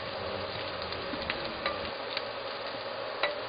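Onions turning pink sizzle steadily in a pan as they are stirred continuously, a constant frying hiss with small clicks and scrapes of the spoon, close and moderate in volume, with no talking.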